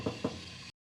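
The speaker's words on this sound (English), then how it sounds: "First, I'll knock" Two quick knocks on the door of a golden eagle enclosure, close and fairly soft, followed by brief silence.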